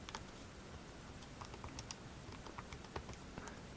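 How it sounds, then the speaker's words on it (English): Soft, rapid key presses patter unevenly in the background, a quiet, muffled typing rhythm on the rubber keys of an NEC MobilePro 450, with no talking. "So as you're clicking, yes, these are rubber keys, you can feel and know that you are typing."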